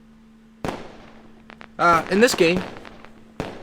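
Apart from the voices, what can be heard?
explosion sound effect, fireworks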